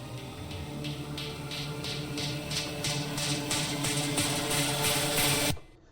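A dense musical drop section swells with distortion and reverb automation fading in, a steady wash with pulsing bright texture that grows and then cuts off abruptly near the end.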